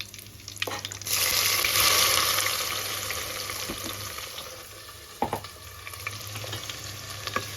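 Ingredients for a Tamil-style fish curry sizzle and fry steadily in a hot pan, the sizzle swelling loud about a second in and then settling into a continuous crackle, with a few clinks from stirring.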